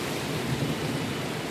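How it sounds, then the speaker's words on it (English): Heavy storm rain pours down steadily with a dense, close hiss, mixed with low thunder rumble, amid strong winds and sideways rain that batter flowers below. "it's like... been raining again all day."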